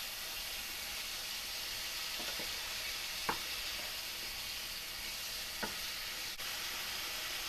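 Sirloin beef tips browning in a hot pan give a quiet, continuous sizzle and hiss, broken by a few soft clicks of a utensil moving the meat.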